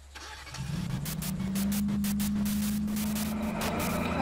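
A car engine in the video game Arma 3 cranks and catches, then settles into a steady, loud idle hum with a rising tone, heard alone with no talking.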